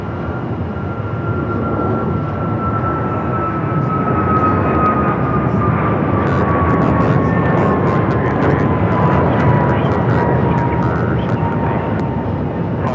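An airplane goes around at Phoenix Sky Harbor, its engines producing a loud, sustained roar with a descending whine that fades slowly as it passes overhead and climbs away.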